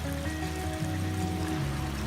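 A creek flows beside a hiking trail in a canyon in northern Utah, a steady, soft rushing and trickling of water without pause.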